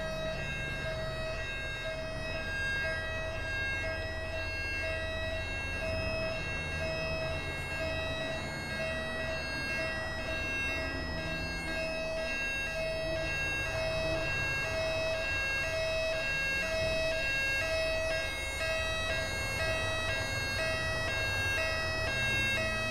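Ambulance siren in the video game GTA 5 with the LSPDFR police mod, a steady electronic siren tone droning continuously for over twenty seconds at moderate level, no voices.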